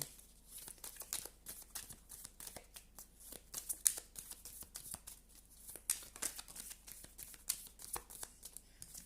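Tarot cards being shuffled by hand in a fortune-telling reading, a rapid run of crisp papery riffles and flicks, close and fairly quiet, with no talking.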